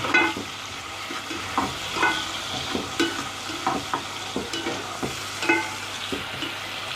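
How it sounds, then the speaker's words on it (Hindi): Onions and tomatoes frying in a pan, a soft steady sizzle under a regular rhythm of spatula stirs and scrapes, close and moderately loud. "प्याज हमारे थोड़े से शौक हो गए हैं और हम टमाटर डालेंगे। थोड़ा सा इनको भूनेंगे।"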